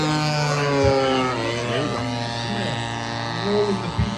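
Twin-cylinder EME 70 gas engine on a Seagull P-47 Razorback RC model warbird, a steady buzzing drone with shifting pitch as the plane rolls, loud and continuous throughout with talk over it.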